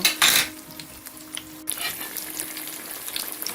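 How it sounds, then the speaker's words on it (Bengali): Pumpkin beguni slices fry in hot oil with a close, steady sizzle, opening with a louder burst and followed by a few light utensil clinks, no voices. "তো ব্রাউন করে তেলের মধ্যে আমি ভেজে নেব"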